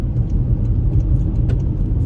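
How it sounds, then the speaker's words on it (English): Road noise inside the cabin of a 2023 Toyota bZ4X on the move, a loud, steady low rumble of tires on pavement that fills the space without a break. "you still get a bit of road noise"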